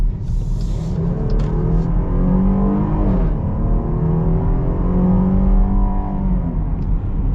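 2021 Jeep Grand Cherokee L Limited with a 3.6-liter V6 revving up through the gears, a rising growl that drops briefly at a shift and climbs again, heard from inside the cabin.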